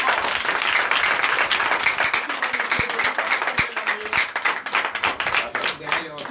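A church congregation at a Sunday service in Comé, Benin, claps loudly and continuously, with rhythmic clapping mixed into the applause, while voices call out over it.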